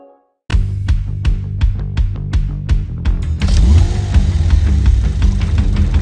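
Porsche Macan sports car engine starting and revving, a loud close roar with rhythmic throttle pulses that swell into a sustained higher rev, with no talking.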